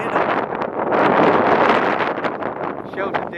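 Strong wind howls and buffets the microphone on a steep coastal hill on the Eyre Peninsula, a loud, continuous roaring gust that swells and eases without a break.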